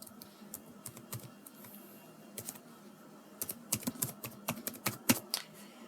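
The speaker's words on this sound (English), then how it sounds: "I'm typing this this email address" Keystrokes on a computer keyboard as an email address is entered into an online form, a quiet run of separate clicks that starts sparse and grows into a quicker, denser burst toward the end.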